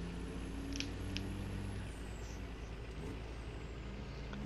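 A truck pulling a trailer in Farming Simulator 15 drones along at a steady, even engine pitch, with a couple of faint clicks and a slowly falling whine from the rig.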